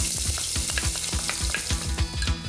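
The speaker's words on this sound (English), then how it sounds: "Now onion." Onion fries in hot sunflower oil with mustard seeds, a loud dense sizzle with rapid irregular pops and crackles throughout, close and continuous with no talking.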